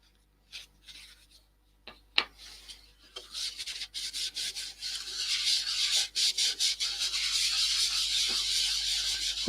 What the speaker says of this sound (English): And then back to using the Yorkshire grit again.